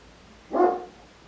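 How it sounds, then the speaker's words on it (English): A single muffled bark from a dog outdoors, brief and moderately distant, standing alone against a quiet background. "You hear me dog out there?"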